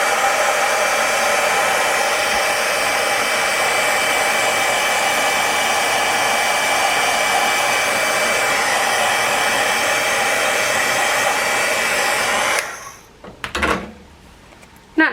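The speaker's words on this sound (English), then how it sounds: "But I'm gonna heat it with the heat gun," Heat gun blowing hot air over ink on a stamped card, a loud, steady broadband roar lasting about twelve seconds before cutting off, followed by faint handling clicks.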